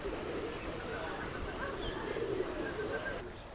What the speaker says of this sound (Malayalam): ഒരുപാട് പ്രാവുകളുണ്ട്